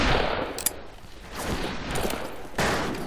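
Gunfire in the western shooter game Fistful of Frags, a dense, continuous wash of shots and rattling bursts throughout, loud and sustained, with a sharper surge near the end and no talk.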